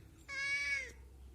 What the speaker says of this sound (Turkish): Miyavlıyorsun sen, kükremek başka bir şey.